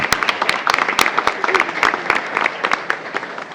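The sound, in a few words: audience applause at school board meeting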